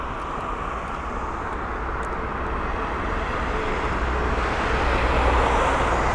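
An Air Astana airliner lands at London Heathrow: a broad, steady jet roar that slowly builds in loudness across the clip, with no one speaking.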